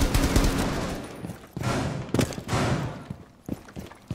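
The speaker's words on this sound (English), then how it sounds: "I've shot them, GP." Gunfire in the video game Rainbow Six Siege during a Terrorist Hunt match, loud rapid bursts of shots and sharp cracks in quick succession, with brief pauses between volleys.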